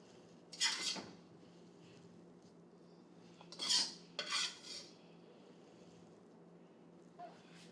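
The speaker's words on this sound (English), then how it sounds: "Now we're going to dish the scallion pancake stir fry." Utensils scrape and clink against a pan while a scallion pancake stir-fry with Taiwanese sausages is dished up at home, making a few short, close metallic scrapes separated by quiet pauses.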